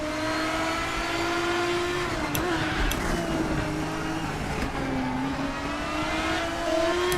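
An LMP1 prototype race car in RaceRoom Racing Experience, racing at Daytona Road, accelerates hard with a loud, sustained engine whine that dips briefly on a wobble before climbing steadily in pitch as power goes down.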